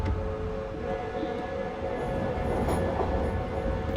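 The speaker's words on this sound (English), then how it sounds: "The track joint sounds are just, oh, amazing." DB BR 145 electric locomotive in a train game, running between Leipzig and Dresden with its windows closed, gives a steady loud rumble of rolling wheels over rails, with a few faint clicks from the track joints.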